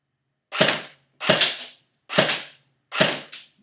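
Four sharp BB gun shots ring out alone at a steady pace, each a crisp, loud snap with a short tail, spaced a little under a second apart.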